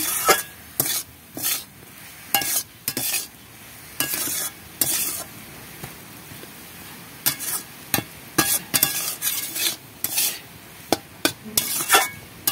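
Leafy greens stirred in a pan with salt and turmeric, giving repeated sharp scraping and clattering strokes of a spoon against the pan in an irregular rhythm over a soft sizzle.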